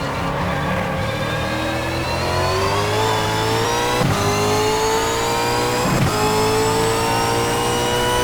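A Reiza Super V8 race car screams around Bathurst in a racing game, its loud engine climbing steadily in pitch with brief dips at gear changes, no talk.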